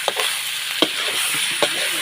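Steady hiss and crackle of pork belly frying in hot oil in a pan, with a few soft clinks of stirring, close and continuous.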